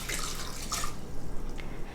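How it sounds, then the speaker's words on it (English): Cold water is poured into a blender holding chopped habaneros, a short splashing trickle with a couple of drips, close and alone. "And then you're gonna add 1/2 cup of cold water."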